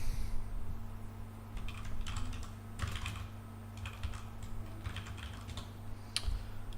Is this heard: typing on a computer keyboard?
yes